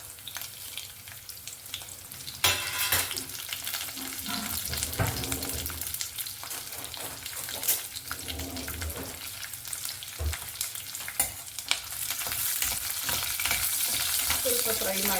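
Garlic, cumin and chillies frying in a pan for an onion chutney, with a steady crackling sizzle and occasional stirring scrapes, and the sizzle grows louder toward the end.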